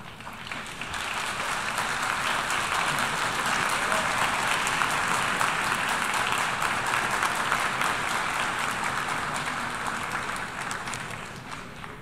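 Audience in the United Nations assembly hall applauding a speech, a sustained burst of many hands clapping that swells, holds steady and slowly tapers off.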